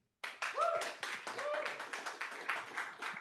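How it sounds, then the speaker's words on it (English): Audience applause welcoming a speaker at a tech talk on design system compliance, clapping that starts abruptly after silence and continues as a steady dense patter, with a voice briefly heard over it. "So big round of applause,"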